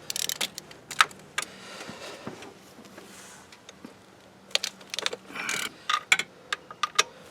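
Ratchet work on an engine mount bolt of a 2012 Ford Fusion, heard as scattered bursts of metallic clicking and clanking separated by short pauses, close by with no talk.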